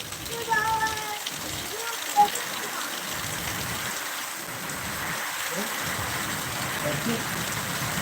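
Steady rain pours down with strong wind, a broad hiss and gusty rushing, continuous throughout, with faint distant voices now and then, in Kinwat, Nanded district.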